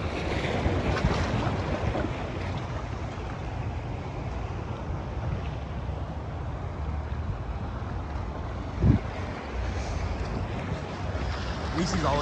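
Ocean waves at a Houston beach make a broad continuous roar, mixed with heavy wind buffeting the microphone and a brief thump near the end, with no clear talk.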